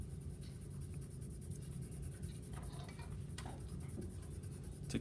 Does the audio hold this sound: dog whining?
no